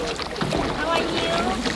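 Paddles dip and pull through water as a small boat is raced toward a temple in Vietnam, with splashy strokes and wind rushing over the microphone, close and fairly loud, with voices in the background.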